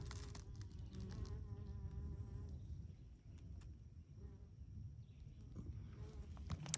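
A honeybee buzzes among raised vegetable beds in a zone 7 garden, a steady close drone with wavering pitch as it moves, over outdoor background noise.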